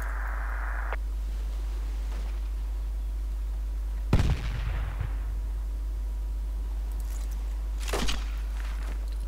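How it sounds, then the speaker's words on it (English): Enemy grenade exploding in Project Reality, a sudden close boom with a rumbling tail over faint background hiss, followed a few seconds later by a second, smaller distant blast. "Enemy grenade here."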